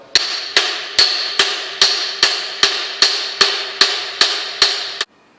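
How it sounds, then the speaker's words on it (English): A hammer strikes the end of a copper pipe to flare it for a compression fitting, about a dozen sharp, evenly spaced metallic taps, loud and close, each ringing briefly before the next, then stopping. "Then I flare the end of the pipe."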